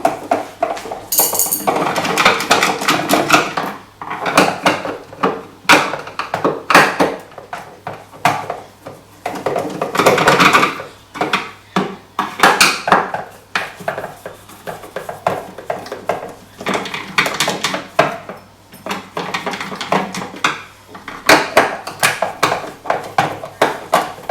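A Phillips screwdriver backs screws out of the plastic housing of a Philips FC6844 vacuum cleaner during a cord retractor repair, bringing repeated loud clicking, scraping and rattling bursts with brief pauses between them.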